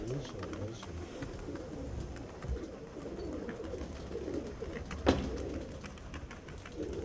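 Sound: pigeon cooing and flapping wings

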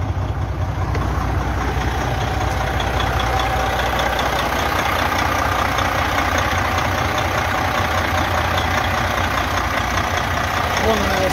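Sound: car engine idling

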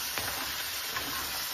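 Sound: mixing pork backbone pieces with pepper

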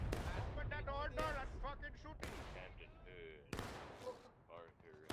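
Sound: musket gunfire from the video game War of Rights

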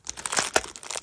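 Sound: tearing open a foil trading card pack wrapper

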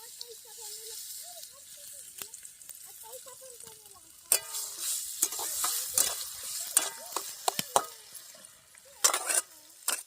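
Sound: onions frying in oil in a kadhai

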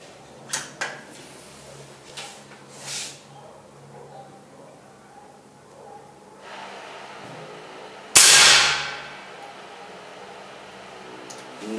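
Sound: PCP air rifle shot with new suppressor

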